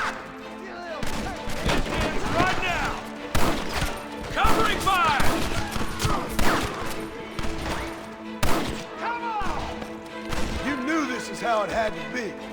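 Gunfire rattles in the Red Dead Redemption video game as volleys of shots crack repeatedly, loud and near, while game characters shout over the shooting.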